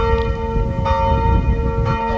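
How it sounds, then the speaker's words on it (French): Church bells ring continuously and loudly close by, a steady sustained peal with no voices over it. "on va attendre juste que les cloches s'arrêtent"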